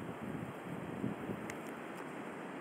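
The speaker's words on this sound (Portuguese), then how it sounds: "O calor que tava lá, aqui tá saindo uma brisa gelada de dentro da gruta." Cold breeze blowing out of a sea grotto on Ilha do Mel, heard as a steady, soft rush of wind and microphone buffeting with a faint wash of surf beneath, no speech.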